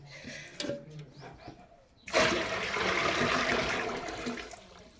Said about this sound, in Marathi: हे पण आता पाणी ओतून घेणार आहे.